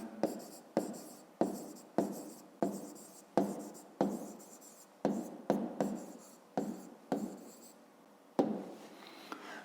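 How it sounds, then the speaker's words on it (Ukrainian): A pen scratches out an answer to a fifth-grade math exercise in a series of about a dozen short, brisk strokes with brief pauses between them, close and clear with no talking. "Пишемо відповідь"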